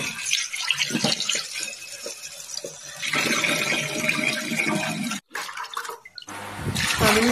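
Cut jackfruit seeds are washed under running water, giving a continuous splashing, gushing flow with a brief break, then louder pouring near the end.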